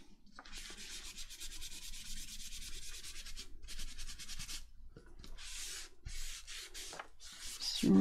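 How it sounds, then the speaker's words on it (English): Paper and fabric are rubbed by hand to lift off stray glue in a junk journal, a close, dry scrubbing friction repeated in several strokes of a second or more with brief gaps. "Just rub off any bits of glue if you can see that you've got any bits on the nice face"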